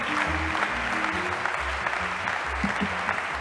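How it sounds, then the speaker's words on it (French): An audience at an awards ceremony for a cycling-friendly-cities ranking breaks into continuous applause, a thick wash of clapping over low rumbling tones that stays loud and even from start to finish. "je demande un tonnerre d'applaudissements pour Jean-Baptiste Gernet"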